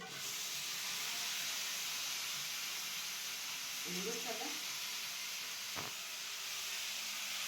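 Chilapi fish frying in oil, a broad steady sizzle and hiss close up, with a brief faint voice-like murmur and a single clack near the end.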